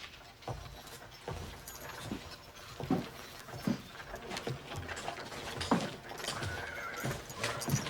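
A horse neighs and its hooves clip-clop in a Western outdoor scene. Several sharp hoof strikes sound at irregular intervals, with a whinny and faint jangling around them and no speech.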